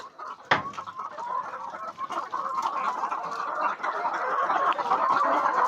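BV380 laying hens cluck in a caged farm shed, a dense, continuous chorus of close, overlapping clucks with one sharp knock near the start.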